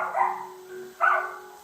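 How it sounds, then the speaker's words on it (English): A dog left at home with three children gives two short barks indoors, the second sharper, moderately loud and fairly close with no talking over it. "And there's a dog in there."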